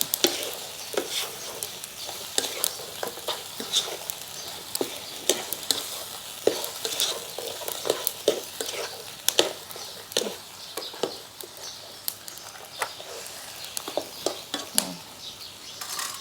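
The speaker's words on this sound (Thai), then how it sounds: "ผัดให้มันคลุกเคล้าเข้ากันก่อน" Chicken feet stir-fried with white soy sauce in a pan, with a steady low sizzle under repeated scraping and clinking of a utensil against the pan, close and continuous without talk.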